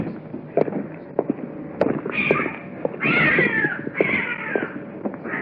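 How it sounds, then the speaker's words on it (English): A cat meows several times in quick succession, close by and loud, with drawn-out wavering cries during a nighttime approach. Faint rustling and handling noises sit underneath. "It's a cat"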